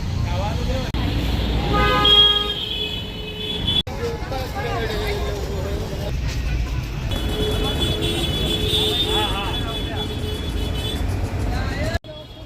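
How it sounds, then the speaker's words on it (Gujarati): Steady road traffic beside the Ahmedabad riverfront Sunday market, a continuous rumble of cars and buses with occasional horn toots, heard under ongoing talk and crowd babble. "અત્યારે ટ્રાફિક છે થોડો."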